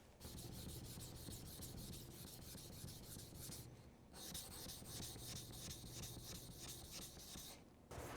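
A Japanese knife blade thinned on a sharpening stone near the hard core steel edge, with rhythmic back-and-forth rasping strokes that are steady, close and quiet and pause briefly twice.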